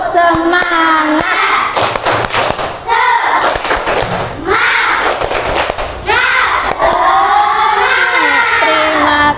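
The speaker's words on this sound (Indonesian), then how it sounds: "ayo kita tepuk semangat dulu agar lebih semangat semuanya" Schoolchildren in an Indonesian classroom do a rhythmic spirit-clapping chant together, with loud, close bursts of claps in groups alternating with their shouted, sung voices throughout.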